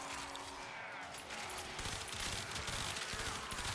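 Harpak harpoon gun in the Warframe video game firing in a dense, continuous burst of rapid shots with crashing impacts, loud and sustained throughout with no talking.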